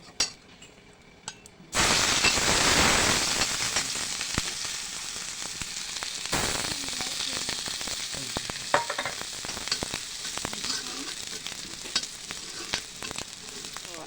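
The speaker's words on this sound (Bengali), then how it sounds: "এখন এখানে আছে রসুন কুচি, আদা কুচি আর পেঁয়াজ কুচি।" Chopped garlic, ginger and onion hit a hot wok with a sudden loud sizzle, then keep frying steadily with a faint clink of a utensil stirring now and then.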